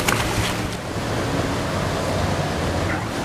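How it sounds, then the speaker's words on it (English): A boat approaches across the water at the Brunei water village, its motor hum and wash blending with lapping water and gusty wind noise, steady and fairly loud with no talk. "Here comes our boat."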